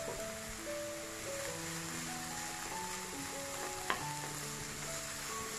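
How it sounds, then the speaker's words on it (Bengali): Chopped onions and garlic sizzling while frying in oil in a pan, a steady hissing crackle throughout with a brief clink near the end, and faint background tones. "এবার এই পেঁয়াজ আর রসুনগুলো একটু পোড়া পোড়া করে ভেজে নিতে হবে।"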